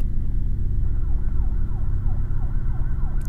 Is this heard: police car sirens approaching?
yes